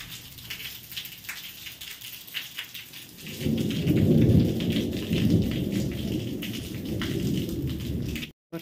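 Heavy monsoon rain and rolling thunder, starting as a lighter patter and swelling after a few seconds into a loud, dense downpour with rumbling, close and continuous, no talking.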